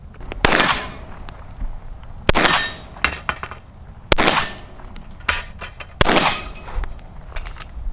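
A Sig Sauer P320 M17 pistol fitted with a Leupold DeltaPoint Pro red dot fires four loud, sharp shots spaced about two seconds apart, each followed by a brief ringing decay, with softer clicks and clatter in between.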